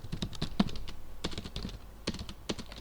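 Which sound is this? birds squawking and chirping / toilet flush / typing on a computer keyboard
typing on a computer keyboard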